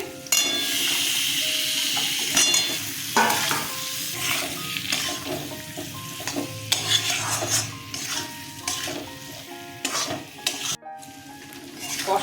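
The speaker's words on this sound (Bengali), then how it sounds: "মশলা কষানো হয়ে গেছে এবার আলুগুলো দিয়ে দিচ্ছি" Potatoes being stirred into fried spice masala for a curry with duck egg fritters, loud clattering spatula strokes and scrapes against the pan over a continuous sizzle, with a short pause near the end.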